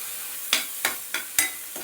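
Barnyard millet roasts in ghee in a pan while a spoon stirs it, making five rhythmic scraping strokes over a low, continuous sizzle.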